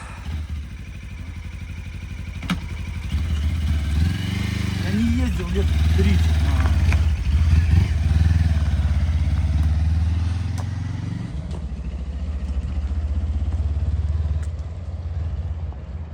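A new 2023 Suzuki V-Strom 250 motorcycle engine runs close by, a low steady idle that swells briefly with a few revs, while people talk over it throughout.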